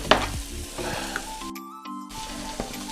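Tempering crackles and sizzles in a hot pan with onion and a single chilli while cooking an alkul (gatya) vegetable dish in Goa, giving continuous close frying with sharp pops and brief stirring clinks, no talk.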